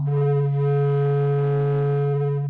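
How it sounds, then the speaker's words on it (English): NASA and ESA recording of the Sun converted to sound: a steady, loud, deep humming tone with layered harmonics, holding evenly for a couple of seconds before fading. "The sun emits a deep and low humming sound."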